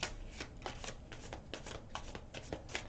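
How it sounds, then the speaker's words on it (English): Brisk riffle-shuffling of tarot cards, a quick series of crisp papery bursts repeating steadily, close up with no voices. "I'm giving it just a couple more little quick shuffle throughs"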